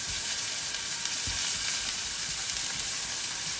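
Liver frying in a hot pan, a continuous dense sizzle with faint crackles and stirring, close and steady without speech.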